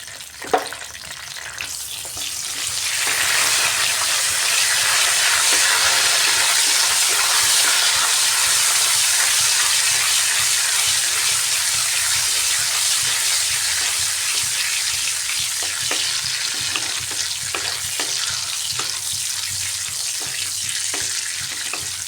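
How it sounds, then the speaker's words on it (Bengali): Dry red chilli, bay leaf and whole cumin fry in mustard oil as a tempering for a cauliflower dish, rising after a quiet start into a loud, steady, unbroken sizzle that carries on to the end. "ফোড়নে দিচ্ছি শুকনো লঙ্কা তেজপাতা আর দিচ্ছি গোটা জিরে"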